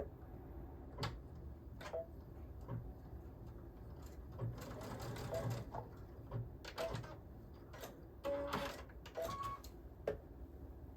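A sewing machine stitches a jacket hem, quiet and fairly distant, with irregular ticking and clicking of the mechanism and short whirring runs in the middle and toward the end, over low room hum.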